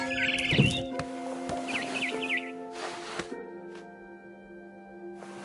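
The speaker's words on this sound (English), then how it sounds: "Then I heard chirping outside my window." In What Remains of Edith Finch, a barn swallow outside a window gives short bursts of warbling chirps, fairly clear against quiet game ambience with soft clicks and tonal hums.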